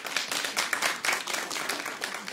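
Moderate, dense clapping from a comedy show audience in a hall in Lille, steady and unbroken, with no voices over it.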